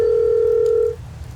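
A steady telephone ringback tone from a phone booth line hums for most of a second, then cuts off, leaving faint line noise while the caller waits for an answer.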